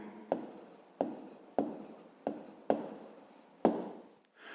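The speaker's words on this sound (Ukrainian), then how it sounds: "Ну а тепер записуємо відповідь." Pen strokes on paper as an answer is written by hand, six distinct scratchy bursts at a steady rhythm, each starting sharply and trailing off, close and clear with no talking.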